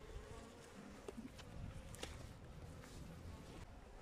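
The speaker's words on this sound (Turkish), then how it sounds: "Bakın eşek arısı yakaladı bir tanesini ama bak nasıl hücum ettiler" Honeybees swarm a hornet at the hive entrance, a steady close buzzing drone of many wings with brief louder flyby swells throughout.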